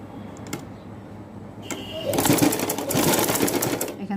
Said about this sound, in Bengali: এই যে হাতার এখানে এভাবে ধরবো, ধরে সেলাই করে দেব।